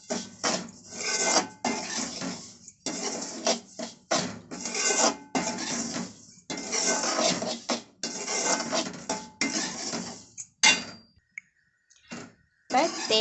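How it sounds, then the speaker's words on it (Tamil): Semolina (rava) mixed with coconut is roasted in a pan while a spoon scrapes and stirs it in steady, close, gritty strokes. The scraping continues with brief pauses and is fairly loud, and a voice talks over it. "இதை நல்லா வறுத்து எடுத்துக்கிறோம். நல்லா எல்லா இடத்துலையும் மிக்ஸ் ஆகிற மாதிரி வறுத்து எடுத்துக்கோங்க."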